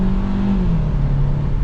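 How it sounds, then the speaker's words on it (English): A 2024 Hyundai Kona N-Line AWD pulls away, its engine droning steadily from inside the cabin with a pitch that dips slightly as it shifts, loud and continuous with no talking. "It's got a peppy little engine."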